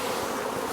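Honeybees drone in a dense, continuous buzz close by as they are moved from a nuc into a full hive, with no talking over them.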